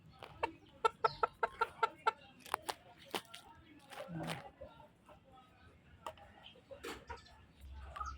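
Four-month-old Boston Sweater gamefowl in a flock give scattered clucks and short calls, with a quick series of sharp ticking notes early on and faint background noise throughout.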